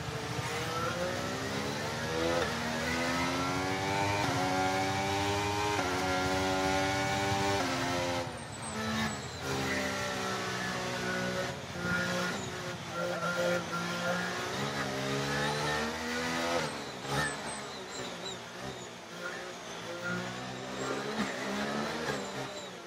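Formula 1 race cars on the final lap in F1 23: a close, high engine whine that climbs and drops in pitch through gear shifts, steady and loud throughout, with brief dips in between.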